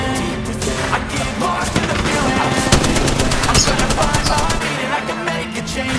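Dense, sustained automatic gunfire from the battle royale shooter Apex Legends, loud and continuous across the whole stretch with rapid bursts and overlapping shots, the firing thinning slightly near the end.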